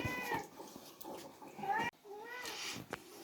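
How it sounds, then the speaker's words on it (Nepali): A cat gives two drawn-out meows in a row, fairly near, with a human voice murmuring around the cries. "सुन्दैछ होला फोनमा बिरालो कराएको"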